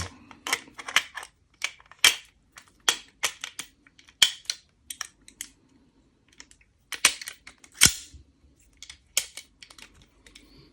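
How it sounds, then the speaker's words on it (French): A revolver's firing pin snaps against the primers in its cylinder one by one, making sharp, close metallic clicks in an irregular run with quiet gaps between them and no voices. "ici vous avez le percuteur qui va venir donc frapper chaque amorce une par une"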